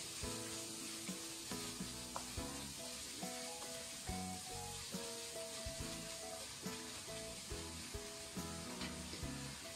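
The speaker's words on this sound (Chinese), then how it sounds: "肉丝一定不要炒老了，炒到变色了以后，加入少许的姜丝" Shredded pork with a little ginger stir-frying in a wok gives a steady hiss and sizzle beneath prominent background music.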